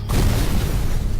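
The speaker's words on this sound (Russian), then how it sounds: "Сначала идет взрыв" A short, loud boom of an explosion in the Sherlock Holmes: The Devil's Daughter video game, a single dense blast that fills the moment and rumbles briefly.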